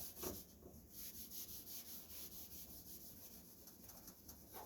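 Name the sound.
rubbing cross-country ski base with clean cloth and wax remover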